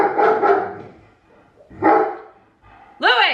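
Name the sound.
dogs barking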